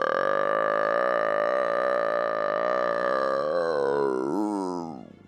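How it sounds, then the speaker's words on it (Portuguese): A huge, long burp from a boy in an audiobook scene, one drawn-out croaking belch that holds steady for about five seconds, then wobbles and fades out alone. "Tyson soltou um enorme arroto."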